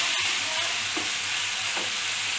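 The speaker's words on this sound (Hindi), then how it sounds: "और इसको थोड़ा थोड़ा ऐसा हिलाते जाना, मतलब दांत पकड़ने नहीं देना है इसका।" Maat ki bhaji greens being stirred as they fry in a pan, a steady close sizzle running throughout with a couple of soft scraping strokes of the spoon.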